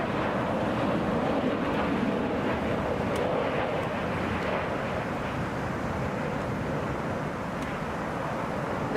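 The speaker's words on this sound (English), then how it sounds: "2026 touching down right now, coming from DC." A Southwest Boeing 737 airliner touches down at Hartsfield-Jackson airport in Atlanta, arriving from DC: a continuous, moderately loud jet rumble with a faint whine above it, heard from a distance and steady throughout.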